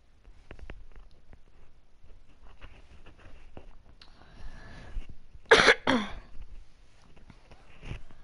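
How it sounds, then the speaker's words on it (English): A person coughs a few times in harsh bursts partway through, during a live PS4 game broadcast with faint game sounds in the background. "I do still have kind of a cough and I've had that for a while"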